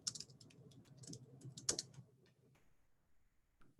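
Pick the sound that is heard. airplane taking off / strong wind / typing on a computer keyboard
typing on a computer keyboard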